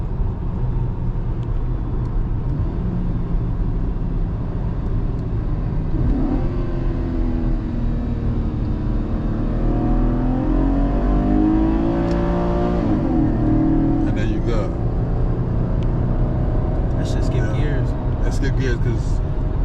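A car with paddle shifters revs up and pulls away after being put in drive, the engine note rising and swelling through the middle of the clip, with talk running over it throughout.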